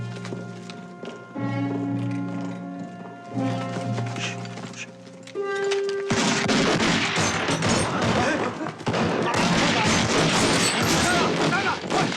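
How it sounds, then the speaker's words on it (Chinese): Type 38 rifle gunfire in a wartime battle scene, heard after a stretch of tonal music as a dense, loud, continuous barrage of overlapping shots and crackling reports. "38大盖的枪声"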